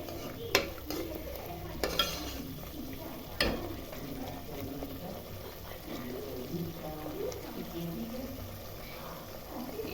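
Chicken ghee roast masala paste sizzles and fries in ghee while a spoon stirs it with occasional sharp scrapes against the pan, a continuous close kitchen sound with a voice speaking over it.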